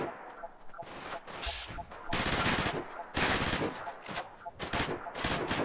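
Rapid bursts of rifle gunfire from a semi-automatic weapon in the video game Fallout 4, loud, dense reports with short gaps between volleys, no voices.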